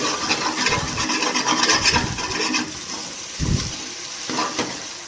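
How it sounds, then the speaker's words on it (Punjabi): Tomato tadka frying in a pan, a steady bright sizzle with scraping stirs and a few heavier low thumps from the spoon, close and alone without talk. "ਟਮਾਟਰ ਐਨ ਭੁੰਨੇ ਗਏ ਜੀ ਤੜਕਾ ਆਪਣਾ ਤਿਆਰ ਹੋ ਗਿਆ ਜੀ"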